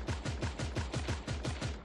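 Rapid gunfire crackles in the video game Creative Destruction, a fast, even burst of about ten loud shots, close and sharp.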